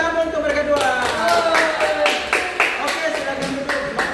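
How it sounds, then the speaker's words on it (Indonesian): A classroom of students claps for two classmates, a string of uneven, fairly loud claps over several seconds mixed with voices calling out. "Tepuk tangan untuk mereka dua."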